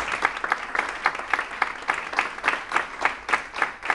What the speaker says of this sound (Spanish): se merece un aplauso de todos ustedes